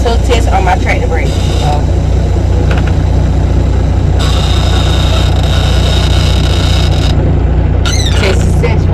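A semi truck's diesel engine idles loud and close in first gear during a tractor brake tug test, a heavy low rumble with occasional high squeals and hissing bursts while someone talks over it.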